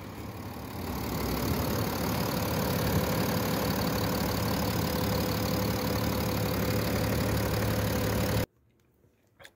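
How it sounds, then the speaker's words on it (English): A 2019 BMW X5 xDrive30d M Sport diesel idles steadily at close range, a continuous even rumble with a faint rattle, cutting off abruptly near the end into near silence. "Vehicle starts and idle fine upon test drive."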